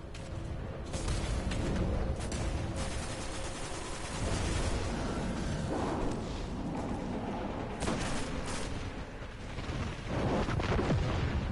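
A long, dense rumbling blast roars through a boss fight in the Destiny video game, loud and sustained with crackling bursts that suggest ongoing detonations and no voices over it.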